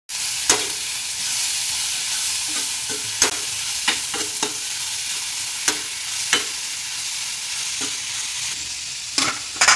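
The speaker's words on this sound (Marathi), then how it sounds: "आता आपण कांदा टाकूया मंद गॅसवरती त्याला परतून घ्यायचे" Onion sautéing over a low flame in a pan for a Marathi onion chutney: a steady soft sizzle with frequent scraping stir strokes and light clinks, close and alone without talk.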